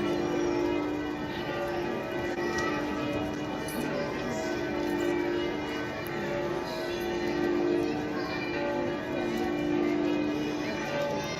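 Church bells ring at noon across a town in Slovenia, a sustained tonal peal with overlapping strikes that carries steadily through the whole stretch at moderate distance, with no talk over it.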